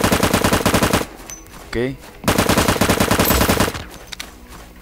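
Automatic rifle fire from the survival video game LifeAfter comes in two loud, rapid, sustained bursts, with a brief spoken word between them.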